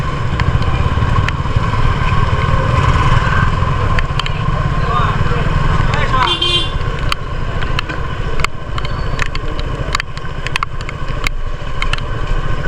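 Motorcycles from a large group of bikers run on a hill road near a lake in the Bandarban hills, a loud continuous engine drone with clattering, under excited voices.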